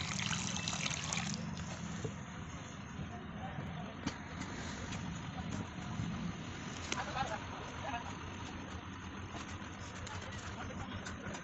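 Water is poured onto cocopeat potting mix in a garden: a close, steady trickling and splashing that runs unbroken for the whole stretch.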